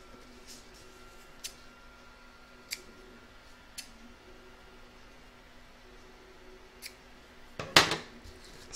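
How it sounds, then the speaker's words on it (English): Scissors trim ribbons on a doll's clothing with several soft, separate snips spread out over quiet room tone, then a louder rustle near the end. "I'm now going to tie my ribbons up and trim them to size."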